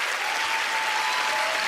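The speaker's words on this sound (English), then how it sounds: "please give her a big round of applause for those random decisions." An audience at the Penn & Teller: Fool Us magic show applauds loudly, a dense, continuous wash of clapping heard close and alone.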